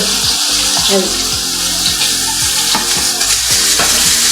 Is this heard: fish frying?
yes